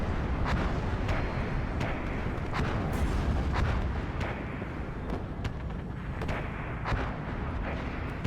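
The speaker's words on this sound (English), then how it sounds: "Do have artillery coming in" Booming artillery fire in a Star Wars video game, with Clone and Empire forces battling, sounds as a dense, continuous rumble with repeated heavy impacts landing every half second or so across the whole stretch, loud and unbroken.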